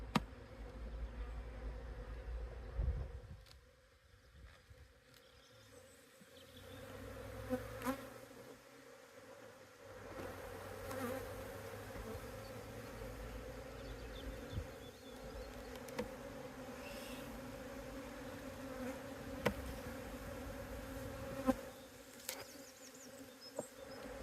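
Honeybees buzzing steadily around an open poly hive, a close, sustained hum with occasional louder passes and faint handling knocks.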